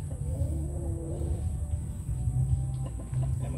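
A hen softly clucking as she pecks around a run scattered with crushed eggshells and oyster grit, low steady calls close by with no talking.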